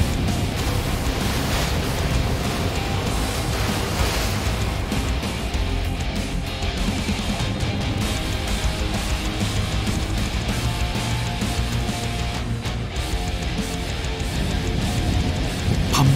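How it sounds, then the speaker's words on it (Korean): A giant squid fishing boat pushes through rough open Pacific waves off Peru, giving a steady, loud, unbroken roar of engine rumble, rushing water and wind noise with no pauses. "점점 더 거세지는 파도에 맞서 망망대해 위 쉼없이 달리는 대왕 오징어잡이 배"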